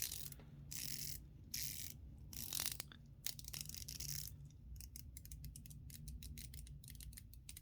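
A 120-click unidirectional watch bezel on a Draken Kruger dive watch turning in a run of small, gritty mechanical clicks, sparse at first then quickening into a dense ratcheting series, close and quiet.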